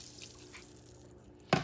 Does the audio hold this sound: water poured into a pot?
yes